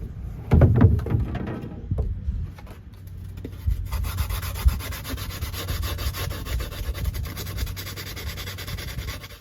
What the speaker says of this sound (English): So we are using these 100 grit sandpaper